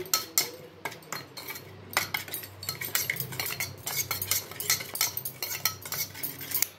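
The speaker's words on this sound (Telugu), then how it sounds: "కొంచెం ఆయిల్, మొత్తం కలిపే వరకు కలుపుకోవాలి." A metal spoon clinks and scrapes busily against a bowl while stirring oil, coriander powder and ginger-garlic paste into an omelette mixture. Rapid, uneven taps and chinks continue without pause over a faint low background hum.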